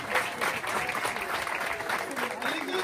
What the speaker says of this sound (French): On applaudit s'il vous plaît la petite sœur de Adam.